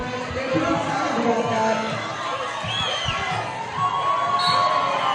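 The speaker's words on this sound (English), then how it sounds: "The Santa Cruz fans are cheering insanely." Santa Cruz fans cheering at a roller derby bout, a loud sustained crowd roar with whoops and shouts swelling and dipping throughout.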